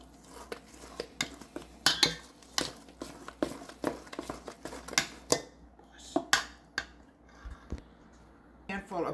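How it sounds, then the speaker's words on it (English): Waffle batter being mixed in a bowl for blueberry waffles, with a utensil clinking and scraping against the dish in repeated short, uneven bursts, close up and fairly quiet. "now we're going to mix this together"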